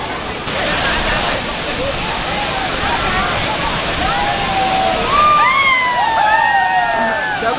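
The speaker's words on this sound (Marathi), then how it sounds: "आम्ही इलो असो कणकवलीच्या सावडाव धबधब्यात सगळी आमची गॅंग" Savdav waterfall near Kankavli roaring steadily up close during monsoon rain with a crowd around, broadband rushing water under whistles and voices of people nearby.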